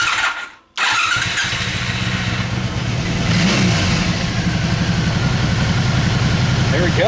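A 2002 Honda Magna motorcycle fires up after a brief crank, catching abruptly and settling into a steady, loud, close idle with a slight rev partway through, while a voice speaks briefly over it.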